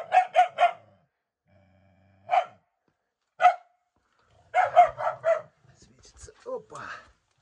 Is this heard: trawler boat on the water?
no